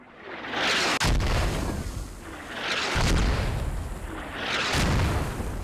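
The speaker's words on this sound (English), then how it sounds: "dodges the mortar barrage" A mortar barrage in the military shooter Squad: three loud, rumbling explosions roughly two seconds apart, each with a sharp onset and long rolling decay, close and heavy with no talking.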